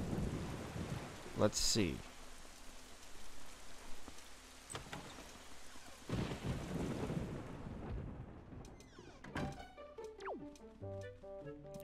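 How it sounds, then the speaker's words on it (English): Thunderstorm with heavy rain in The Legend of Zelda: The Wind Waker HD: steady rain hiss broken by several loud thunder cracks and rumbles, with wind noise, a brief spoken comment and game music entering near the end. "Dear me, there's a terrible storm raging this evening."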